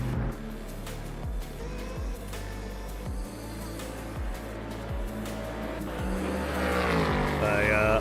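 Hypercar engines roaring in the Le Mans Ultimate racing game, loud and continuous, with repeated gear-shift drops in pitch and a rising whine near the end.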